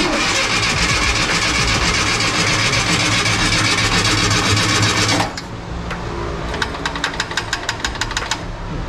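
A 1500cc engine in a 1967 VW Bus cranks and fires for its first start, running loud and rough with a rapid knocking clatter for about five seconds before cutting off, followed by quieter ticking and rattles.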